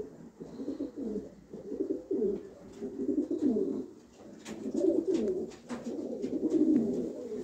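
Pigeons coo inside a pigeon loft, repeated soft throaty rolling calls in overlapping bursts, with faint chirps and small knocks in the background.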